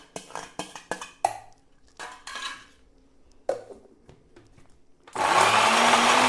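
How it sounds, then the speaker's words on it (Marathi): A mixer grinder grinding masala, starting after a series of clatters and short knocks and then running as a loud steady whir for the last second or so. "आता आपण हा मसाला मिक्सरमध्ये बारीक करून घेणार आहोत"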